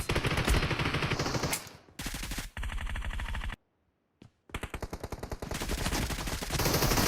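Automatic gunfire from a PUBG match bursts in loud, rapid rattling volleys that stop for a brief silence and then resume in long sustained bursts.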